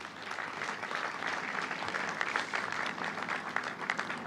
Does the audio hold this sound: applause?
yes